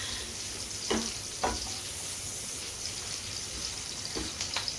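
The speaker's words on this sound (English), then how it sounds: "this is one of the best smells in the kitchen, is onions and pepper sauteing" Onions and pepper sautéing in a pan, a soft continuous sizzle with a few brief scraping stir strokes, close and steady with no talking.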